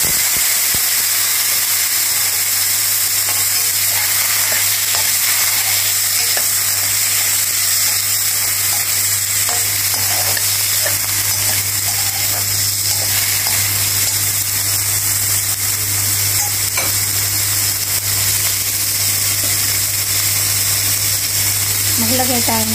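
Chickpeas frying in a hot pan for chole, a loud, unbroken hissing sizzle close up that holds steady throughout, with a voice speaking briefly over it.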